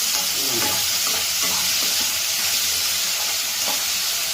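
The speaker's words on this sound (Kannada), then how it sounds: "ಇವಾಗ ಟೊಮೊಟೊ ಹಾಕೋಬೇಕು. ಫುಲ್ ಮಿಕ್ಸ್ ಮಾಡಬೇಕು." Tomatoes stirred into a browned, sizzling onion mixture in a hot pan, with steady frying hiss and scraping spoon strokes throughout.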